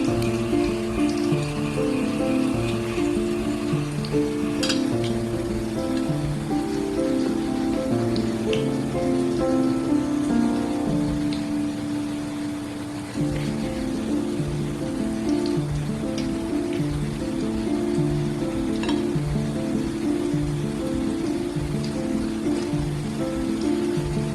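Okra pieces with a stuffed filling deep-frying in hot oil, a steady dense sizzle and crackle of bubbling oil running continuously with no talk.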